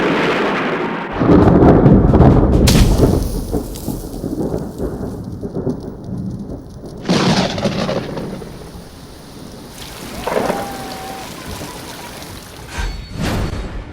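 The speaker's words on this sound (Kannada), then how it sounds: "ಆಷಾಢ ಮಾಸದಲ್ಲಿ ಮಳೆ ಅಬ್ಬರಿಸಿ ಬೊಬ್ಬಿರಿತಾ ಇದೆ" Heavy monsoon rain falls steadily in Karnataka during the Ashadha month, with loud close thunder crashing at the start and rolling again midway, all under a constant downpour hiss.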